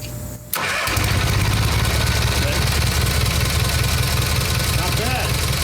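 A Kohler Magnum engine on a Simplicity Sunstar garden tractor, choke still on, catches and settles into a loud, steady, close-up idle with an even mechanical rumble after a brief quieter start.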